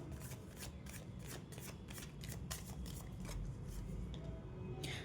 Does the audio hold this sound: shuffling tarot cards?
yes